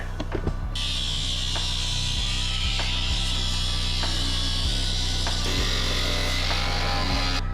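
A power tool cuts through a Jeep Wrangler tub along the factory seam sealer, a loud, continuous high-pitched whine and grinding with a low-pitched motor drone under it and regular thumping pulses throughout.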